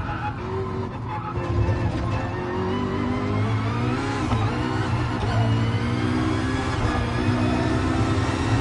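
Racing car chassis and tire noise in Gran Turismo Sport during an electric Vision Gran Turismo race at the Nordschleife, a steady loud drone of rolling and scrubbing with brief squeals, continuous throughout with no talk.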